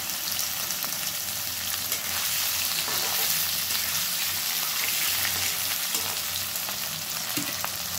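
Boiled potato pieces tipped into hot oil with a dried chili tempering hiss in a steady, loud, close sizzle that holds evenly throughout, with faint stirring scrapes and no voices.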